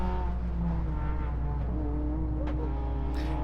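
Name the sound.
white Honda Civic race car driving on track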